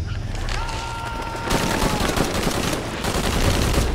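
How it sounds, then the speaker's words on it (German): Gunfire in Shadow of the Tomb Raider, a dense, continuous rattle of shots over rumbling game ambience, loud and sustained for several seconds with no pauses. "Hör auf zu schießen."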